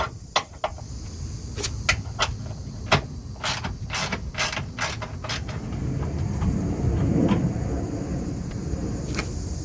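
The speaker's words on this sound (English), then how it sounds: "first we're going to start off by unscrewing this 10mm bolt right here." A ratchet wrench turns a 10mm bolt at the rear wheel well of a 2015-2020 Ford F-150, giving a run of sharp clicks early on followed by steadier mechanical grinding over a low background rumble, close by, with no speech.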